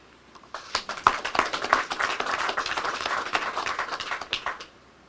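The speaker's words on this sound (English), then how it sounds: "I need him around to trigger applause more often." Audience applause after a speech at an attorney general's youth prevention campaign launch, scattered claps swelling quickly into a full round of clapping that holds for a few seconds, then thins and fades out.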